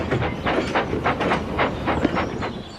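An animated steam engine chuffs in a steady rhythm of repeated puffs, with hissing and rail clatter underneath, fairly loud and close.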